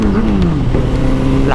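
A Kawasaki Z900 motorcycle engine revs loud and close, its pitch climbing then easing back across a short burst.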